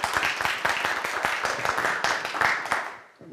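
Audience applause at a Bazm-e-Sukhan poetry gathering in Wembley, a dense steady burst of many hands clapping that fades out toward the end, close and loud.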